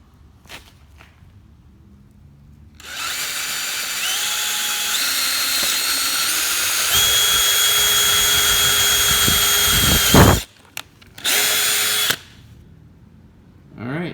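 A power drill whirs loudly in a long sustained run while drilling holes in a Mazda Miata NA body for a soft top install, its pitch shifting slightly, then stops and gives a second shorter burst.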